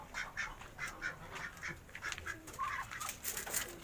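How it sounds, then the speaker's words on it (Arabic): Ducks quack repeatedly on a home balcony, a busy run of nasal calls at close range with steady background noise and no talking. "دي بط برضه"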